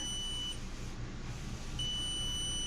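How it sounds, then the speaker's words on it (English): A handheld wall stud detector gives a thin, high electronic tone that stops, then returns, two steady beeps over a low background hum, inside an RV. "This will beep when it finds."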